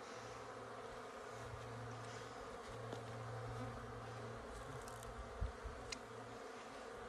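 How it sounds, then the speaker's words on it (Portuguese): A swarm of bees around a freshly captured hive taken from a termite mound, a close, continuous droning buzz with shifting pitch and a few faint knocks near the end. "Na presença das abelhas."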